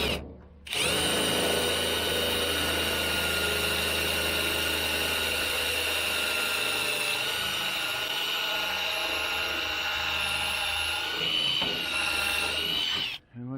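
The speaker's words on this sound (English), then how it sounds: "Let's get that drill down through there." A power drill runs continuously at close range, a loud sustained whine that starts abruptly, holds steady for several seconds, then cuts off, while trimming pallet racking in a garage build.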